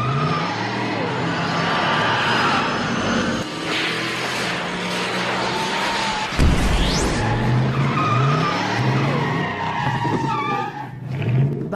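A car in GTA 5 races along with screeching tire squeals and a rising engine note, building speed toward 88 mph, loud and continuous with sharp skid sounds near the middle and end.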